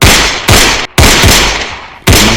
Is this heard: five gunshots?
yes